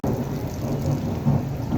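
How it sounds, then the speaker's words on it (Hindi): Heavy rain with deep rolling thunder, a continuous low rumble under dense rainfall, loud and close with no speech. "आज वेदर रिपोर्ट में बिल्कुल भी मेंशन नहीं था कि आज बारिश का कोई भी चांस है"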